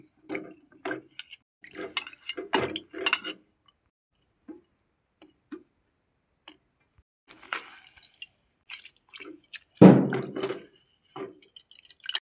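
Intermittent splashes and drips of water as vegetables and curry leaves are rinsed by hand in muddy water, in short bursts separated by quiet pauses, with one louder splash.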